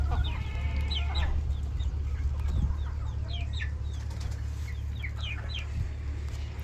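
Hens cluck and squawk in short, scattered calls inside a poultry farm shed on a rainy day, over a constant low hum.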